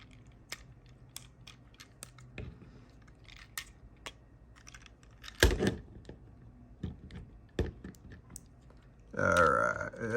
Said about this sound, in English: drop everything into place and click it in the back